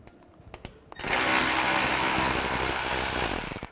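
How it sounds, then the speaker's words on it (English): Power tool spinning a T25 socket to remove a bolt on a 2007-2013 Mini Cooper during radiator replacement; a few light clicks, then a loud continuous whirring burst that holds steady for nearly three seconds, close up. "we'll take this bolt out here, use a T25 socket"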